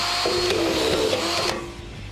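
A Senco screw gun drives a DuraSpin drywall screw through drywall on a wall, giving a close, steady motor whine for about a second before it cuts off.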